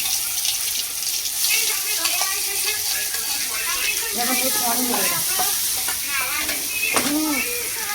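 Chili peppers frying in overheated oil on a kitchen stove, with a continuous hissing sizzle and bubbling. Some stirring and clattering sound underneath, and faint talk is also heard.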